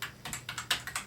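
Quick, uneven keystrokes on a computer keyboard while entering a name into a database program, about a dozen close, crisp clicks in irregular bursts.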